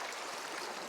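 Fast, wild-flowing water of the Lower Owens River in the Eastern Sierra, a steady broadband rush heard close and unbroken for a brief moment.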